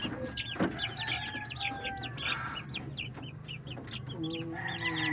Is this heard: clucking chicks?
yes